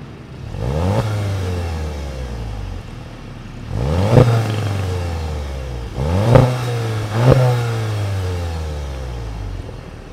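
A 2024 Volkswagen Jetta GLI revs through its dual chrome-tipped exhausts, with four sharp throttle blips that each rise and fall back to idle, recorded close and loud with no talking.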